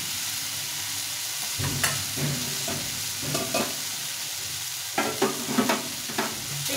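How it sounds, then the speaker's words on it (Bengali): Masoor dal sizzles in a hot pan under a steady frying hiss, punctuated by several close, crisp stirring scrapes that cluster toward the end. "ডালটা একটু ভাজা ভাজা হয়ে গেলে একটু জল দিয়ে দিতে হবে।"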